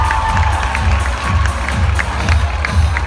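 A crowd at a cheerleading awards ceremony cheers and claps in a continuous loud roar, with scattered shouts and rhythmic thumps.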